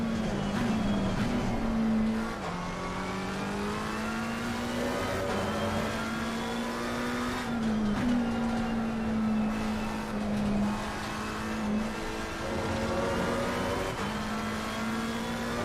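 Race car engine in Assetto Corsa Competizione droning steadily at high revs, dipping briefly at gear shifts around two, five and eight seconds, loud and continuous throughout with no talk over it.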